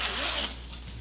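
A short zipper pull on a zipper sewn into a fabric seam, a quick scratchy rasp lasting about half a second before trailing off into quiet.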